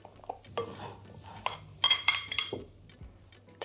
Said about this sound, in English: in goes the wet ingredients